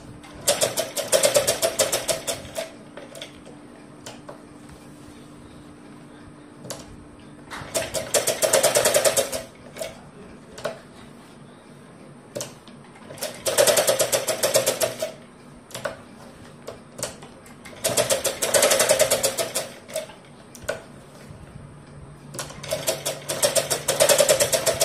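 A sewing machine stitching a long frock made from an old saree, running in four or five loud rapid bursts of several seconds each, separated by quieter pauses with faint handling clicks.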